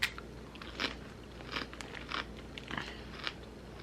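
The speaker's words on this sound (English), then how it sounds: "Dip it in, crunch away." Crunchy veggie chips being bitten and chewed close up, several sharp crisp crunches in an uneven rhythm with no talking.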